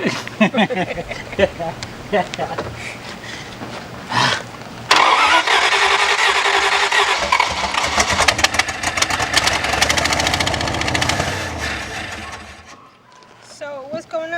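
A 1951 Chrysler Saratoga eight-passenger limousine engine with a misfire cranks, catches and runs roughly after decades of sitting, loud and close, with people talking over it before it cuts off.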